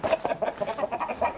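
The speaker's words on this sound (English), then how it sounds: "Roosters," Farm roosters and hens cluck in a quick, repeated rhythm close by, a steady stream of short calls with no one talking.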